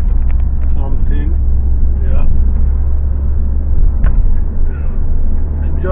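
Low engine rumble heard from inside a moving car, steady and close, with a voice talking over it and bits of background music.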